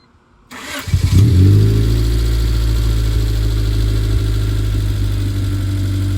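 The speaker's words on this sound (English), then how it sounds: "we have no rough idles, and it starts up right on crank" A 1991 Honda Civic engine cranks briefly, catches, and revs up before settling into a steady, loud idle close by.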